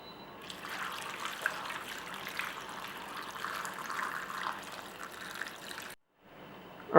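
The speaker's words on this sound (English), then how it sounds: "just cover them with water" Water pours into a pot over chopped potatoes in a steady trickling stream that holds for about six seconds, then stops abruptly, followed by a brief clatter.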